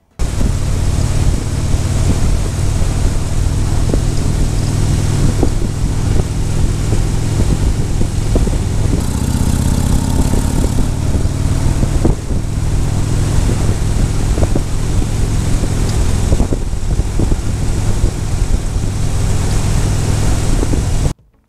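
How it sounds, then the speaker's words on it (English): A motorcycle fitted with batwing air deflectors cruises along, giving a continuous loud roar of engine drone and rushing wind that holds steady, then cuts off abruptly at the end, with no talk. "I'm going to go ride the bike"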